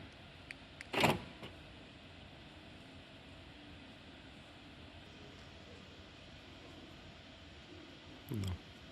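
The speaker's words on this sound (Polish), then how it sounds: "zamkniemy sobie teraz samochód i zobaczymy jak to będzie wyglądać na zamkniętym samochodzie" A car being locked, with two short whirring bursts of power windows or locking motors spaced well apart over a quiet, steady background hum.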